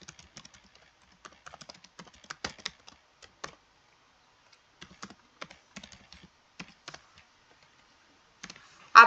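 Quiet, irregular clicking of computer keyboard keys while code is typed, bursts of light taps separated by short pauses, close and fairly soft.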